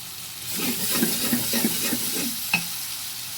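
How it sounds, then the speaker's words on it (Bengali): Spice paste for a snakehead fish and new potato curry being stir-fried in a pan, with a steady sizzle and repeated scraping strokes of a spatula, closing on one sharper scrape. "মশলাটা সুন্দর করে কষিয়ে নিতে হবে।"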